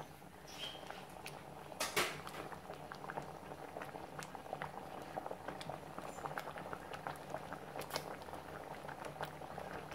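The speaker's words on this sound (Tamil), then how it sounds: "இது நல்லா கொதி வந்துடுச்சு." Liquid masala gravy bubbling at a vigorous boil in a pan, a dense stream of small pops and gurgles, close and steady with no talking.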